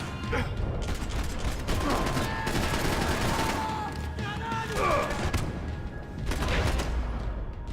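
Rapid bursts of automatic gunfire and heavy shots in the video game Max Payne 3, loud and continuous with clanking mechanisms and thuds, while a voice speaks over the shooting.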